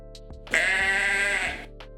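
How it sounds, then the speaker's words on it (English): One goat gives a single loud, drawn-out bleat lasting about a second, near and clear, with a few faint clicks around it. "that's a goat."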